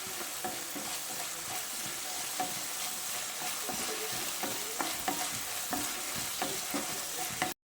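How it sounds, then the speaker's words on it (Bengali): A vegetarian soybean curry with a splash of vinegar is stirred in a pan over a low flame, giving a soft constant sizzle broken by repeated spatula scrapes and clicks against the pan, with no speech. "তারপর গ্যাসের ফ্লেমটা লোতে করে সব কিছুকে একসঙ্গে ভালো করে নেড়ে চেড়ে মিশিয়ে নিতে হবে"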